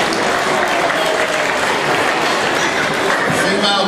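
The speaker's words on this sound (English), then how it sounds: "A round of applause," Steady, dense applause from a large audience at a stage event, filling the whole stretch at an even, loud level, with faint voices mixed into the crowd noise.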